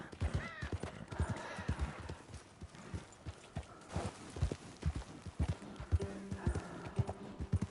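A tired horse's hooves clip-clop in a steady galloping rhythm in Red Dead Redemption 2, a repeated close thudding beat that continues throughout.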